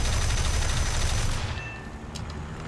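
Aircraft cannon fire in the War Thunder flight game, aimed at a Soviet Su-2 attacker during a dogfight, comes as a loud, dense burst of continuous gunfire that eases off into quieter engine drone after about a second and a half.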